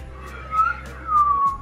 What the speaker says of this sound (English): It's like a Peruvian. Pan flute thing? It's a pan flute.